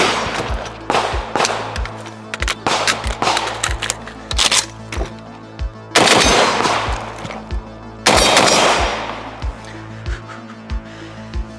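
Repeated shots from a Draco AK pistol during a timed shooting drill: loud, sharp cracks in quick bursts and single reports, with a short pause partway through and dense strings of fire near the middle and end.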